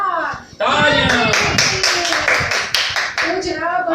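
An audience claps on a televised music show, with a steady patter of applause that carries on under a speaking voice.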